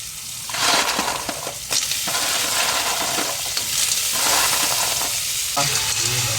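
Snails tipped into a pan of sautéed aromatics and stirred: a loud, close burst of sizzling and frying with wet clattering and scraping of the shells as they are turned, steady throughout with no speech.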